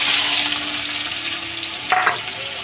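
Onion frying in oil with bay leaf, cinnamon, cardamom and a little cumin, a continuous close sizzle with a short burst of stirring or a dropped ingredient near the end.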